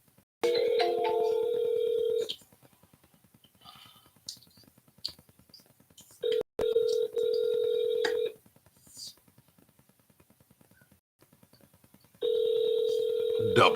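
A phone on an outgoing call back rings out in three long, evenly spaced bursts of electronic tone, with quiet gaps and faint clicks between them.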